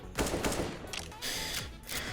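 Full-auto rifle fire in CS:GO: rapid bursts of sharp gunshots close by, a few separate sprays with short pauses between them.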